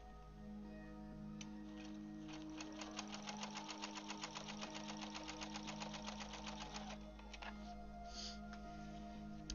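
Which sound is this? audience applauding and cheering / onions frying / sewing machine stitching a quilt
sewing machine stitching a quilt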